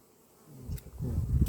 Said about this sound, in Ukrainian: зараз з другого корпусу бджолу струшу